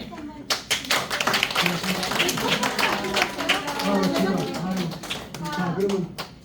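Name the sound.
audience applause for the director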